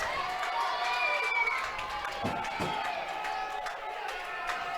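Crowd cheering and shouting fills a gym at a high school state tournament volleyball match, a steady roar with whistle-like tones and sharp claps, loud and continuous throughout.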